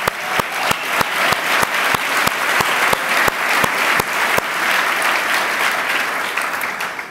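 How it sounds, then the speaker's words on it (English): A crowd at the Orlando mayor's State of the City address claps steadily and loudly, joined by a sharp, regular thumping beat that repeats throughout before fading slightly near the end. "big applause for all of that"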